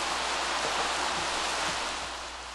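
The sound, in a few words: rain in the video game The Sims 3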